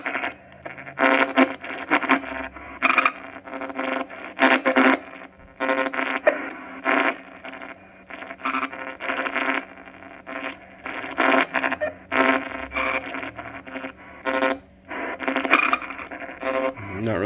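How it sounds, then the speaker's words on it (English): A radio crackles with choppy bursts of static that cut in and out repeatedly over a steady low hum, loud and close throughout. "I can hear that static"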